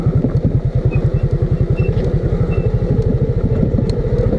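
A motorcycle rides along a slippery, muddy road, its engine loud and close with a fast, even chugging pulse and no talking over it.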